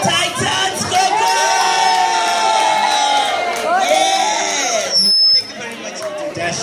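Crowd at a high tea event cheering and whooping for a singer, loud excited shouts and chatter in a lively room, with speech mixed in.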